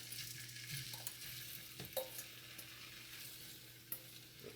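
Shrimp fry in a hot pan with a soft, steady sizzle, punctuated by a few light stirring clinks, heard faintly and up close without talk.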